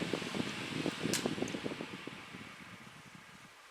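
A Lakewood 900SX oscillating fan's steady whir gradually winds down, its broadband hum fading and softening over a few seconds, with faint rattling blade ticks underneath.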